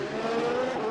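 A Formula One-style race car crossing the line at the British Grand Prix in the Assetto Corsa video game, a steady high-pitched engine whine held at speed for a moment, close and loud with no talk.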